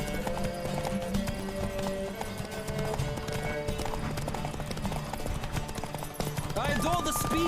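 Horse hooves gallop in rapid clip-clop rhythm in The Witcher 3 video game, steady and mid-loud beneath game music and a voice, with a brief whinny near the end.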